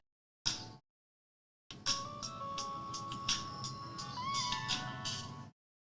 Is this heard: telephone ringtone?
yes